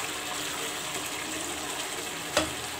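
Pumpkin stir-fry sizzles steadily in a pan as water is sprinkled in, a continuous frying hiss with one small sharp spatter near the end.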